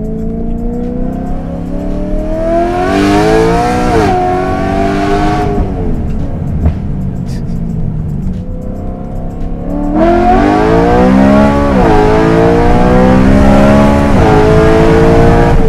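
A loud, close BMW E92 M3 engine revs hard through the gears, pitch climbing steeply, dropping at each shift, then surging again under heavy acceleration, rear tires chirping.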